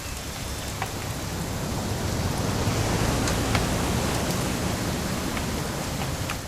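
Rain pours steadily in the game What Remains of Edith Finch, a constant broadband hiss of drops striking surfaces, loud and unbroken with occasional distinct drips.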